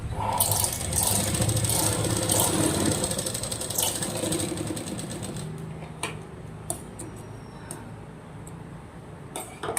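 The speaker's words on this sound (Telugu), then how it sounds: "ఈ ఎడ్జెస్ నుండి మనం మార్క్ చేసుకున్న వరకు స్టిచ్ చేయాలి." A sewing machine runs steadily while stitching along a folded blouse edge, a continuous mechanical whir with rapid ticking of the needle, loud at first and easing a little toward the end with a few sharp clicks.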